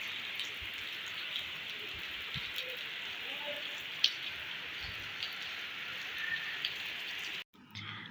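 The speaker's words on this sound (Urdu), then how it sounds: "بارش بھی ساتھ ساتھ ہو رہی ہے، موسم بھی بہت اچھا ہو گیا۔" Steady rain falling outside a home during a pleasant change of weather, a continuous soft hiss of drops with occasional small splashes, moderately close, ending with a brief drop in level.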